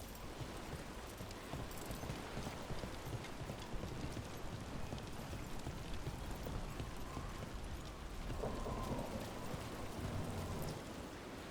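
Steady rain falls throughout in the video game Dragon Age: The Veilguard, a dense hiss with hoof-like clopping mixed in, fairly loud and continuous with no voices.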